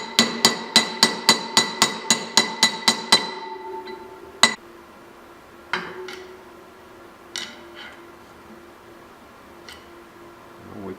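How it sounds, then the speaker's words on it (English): Motorcycle front wheel bearing being driven into the hub with a hammer: about a dozen sharp, evenly spaced metallic strikes in quick rhythm, then a pause and several louder, isolated taps spaced seconds apart, close and clear. "And now just little hammering."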